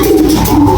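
A young racing pigeon of the kolong type gives a single loud, close coo, a short throaty burble.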